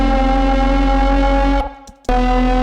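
Serum synth bass with its FM oscillator dropped four octaves: a loud, sustained buzzing drone rich in harmonics that cuts out briefly for about half a second, then returns just as dense and distorted.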